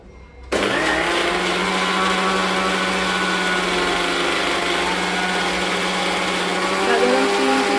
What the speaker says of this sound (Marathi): आता हे मिक्सरला फिरवून घ्यायचं